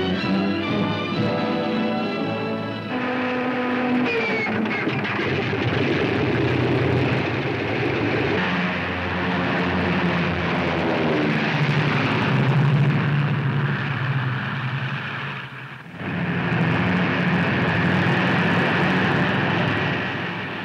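Allison-engined P-40 fighter planes of World War II, readied by mechanics on an improvised metal runway in Italy, give off a loud, continuous propeller-engine roar with a brief dip near the end.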